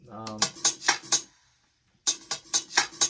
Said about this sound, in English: I just took a basic sample loop, some claps and a hi-hat and some shake